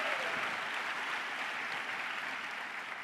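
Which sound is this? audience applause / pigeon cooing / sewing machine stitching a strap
audience applause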